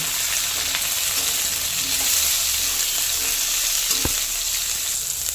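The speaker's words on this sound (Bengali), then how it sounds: "এবারে দিয়ে দেব পটল, ডাঁটা আর মিষ্টি কুমড়ো। সব দিয়ে একসাথে ভেজে নেব।" Pointed gourd, drumstick stems and pumpkin pieces fry together in a pan, giving a steady, close hiss and sizzle with a few soft stirring knocks, heard alone without any voices.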